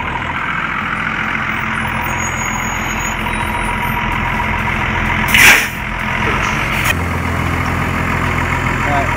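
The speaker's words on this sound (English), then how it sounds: "now my little Hunter's coming home on that bus" A school bus pulls up with its engine idling steadily and lets out one sharp hiss of air brakes partway through, followed by continued low rumble.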